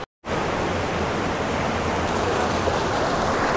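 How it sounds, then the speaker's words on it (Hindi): Jogini waterfall near Manali in Himachal Pradesh gives a loud, steady, close rush of falling water that fills the whole clip without a break after a brief silent start. "तो ये जोगिनी वाटरफॉल है"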